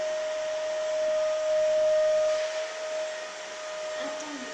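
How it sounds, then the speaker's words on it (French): A vacuum cleaner runs with a loud, steady motor whine and airy rush that swells slightly and dips toward the end, heard alone. "passe l'aspirateur"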